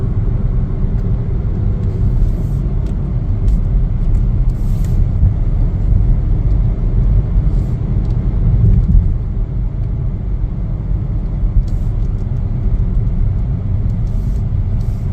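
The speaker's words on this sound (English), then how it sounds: "we're going to continue our test drive here." A Chevrolet Trax on a test drive gives a steady, continuous low road rumble and engine hum from inside the cabin, with no talking.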